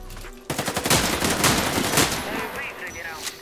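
Automatic gunfire from a weapon in Warface: a fast, loud rattling burst of shots fired from the hip, with a short pause and a lighter tail of shots afterward, with a faint voice in the background.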